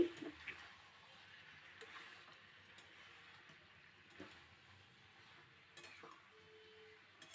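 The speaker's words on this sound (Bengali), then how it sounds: "এবারে ওই যে সেদ্ধ করা ডুমুর, ভালো করে কষে নিচ্ছি।" Boiled figs being stir-fried in a pan for a home-style Bengali fig and prawn dish, with soft scraping, stirring and light sizzling that run steadily throughout, plus a few brief clinks of utensil against the pan.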